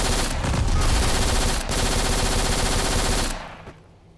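A P90-style submachine gun in the shooter game Black fires in one loud, sustained automatic burst of tightly packed shots for over three seconds, then stops and its echo trails off.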